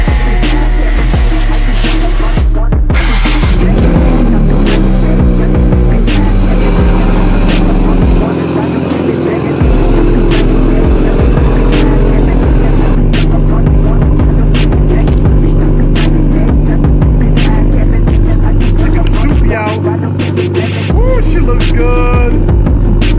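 Toyota MK5 Supra engine on a night drive, a loud, steady drone that rises and falls in pitch as the car accelerates and shifts, heard from inside the cabin.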